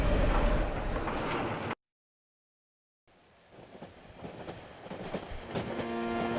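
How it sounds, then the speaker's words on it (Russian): Train rolling along the rails in the horror video game Cry of Fear, a rumbling carriage sound that cuts to brief silence, then returns with clattering wheels and a rising tonal hum. "мы куда-то едем? Снова в поезде."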